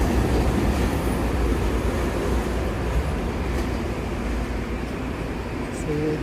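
Vancouver SkyTrain Expo Line train passing nearby, a steady broad rumble of rail traffic with faint squeals near the end.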